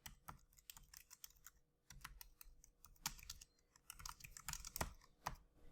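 Code being typed on a computer keyboard, with quiet, close key clicks in quick irregular bursts separated by short pauses and no voices.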